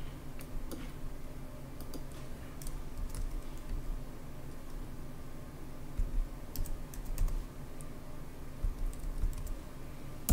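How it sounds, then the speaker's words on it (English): Keys clatter on a Mac computer keyboard in a steady run of close, quiet clicks and taps over a low background hum, with no talking. "we're gonna take this number and we're gonna type it into our web browser"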